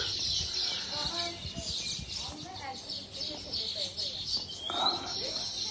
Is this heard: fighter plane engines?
no